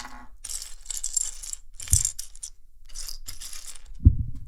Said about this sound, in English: Some Lego ASMR for you.